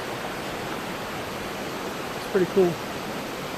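A waterfall on a river gives off a steady, even rush of white water that holds unchanged throughout, with a voice speaking briefly near the end.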